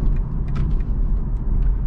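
A BMW 330e in sport mode drives with a loud, steady low engine and road rumble from inside the cabin, unbroken over a couple of seconds.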